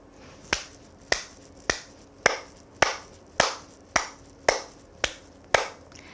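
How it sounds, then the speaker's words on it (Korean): A single person claps hands firmly during a warm-up exercise, ten evenly spaced sharp, close claps about every half second, with no talking. "박수치기부터 시작하겠습니다"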